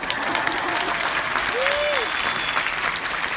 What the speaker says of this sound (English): Hey, if it's good, clap.